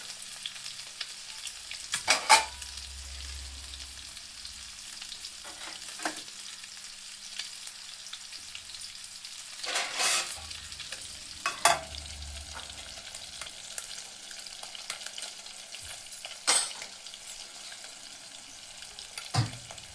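Fish pieces frying in a pan at home while fish curry and rice cook nearby, with a steady low sizzle broken by louder bursts of stirring and clatter every few seconds, with no talk.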